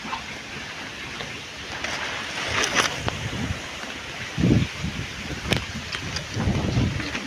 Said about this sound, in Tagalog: Ang bilis po ng hangin dito.